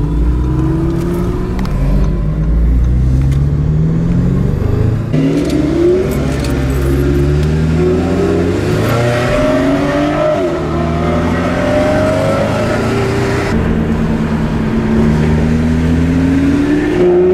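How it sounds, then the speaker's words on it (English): Speedster supercars on a mountain pass roar through repeated gear changes, engines rising in pitch and dropping again in a loud close run of acceleration. "hopefully we'll have some nice, nice exhaust sounds"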